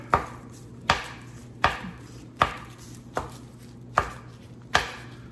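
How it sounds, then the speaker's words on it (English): A knife cutting rolled pie dough into half-inch strips for a cinnamon roll apple pie, seven evenly spaced sharp thuds on a board, close and clear with nothing else heard. "just cut them 1/2 inch in width, about 1/2 inch"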